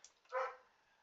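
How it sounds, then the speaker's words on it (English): A dog gives one short, fairly close bark, a single yip-like burst that rises and fades quickly against a quiet background. "Dog is saying hi."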